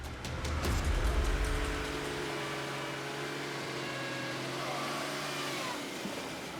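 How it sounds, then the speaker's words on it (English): A car engine revs hard and then settles into a steady strained drone as the vehicle struggles along a rough road with water-filled crevices near a ravine in Congo, heard close and continuous. "Our car struggles to get to the ravine, despite several attempts due to crevices full of water."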